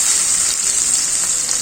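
Chopped onion hitting hot oil already crackling with dry red chillies, a bay leaf and five-spice tempering gives a steady, close, bright sizzle that holds evenly throughout with no talking.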